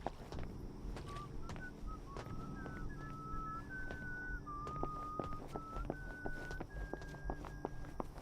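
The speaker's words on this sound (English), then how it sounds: "They're all whistling." Several characters in the video game We Happy Few whistle a wavering tune at moderate volume, backed by a steady patter of footsteps and faint background bustle.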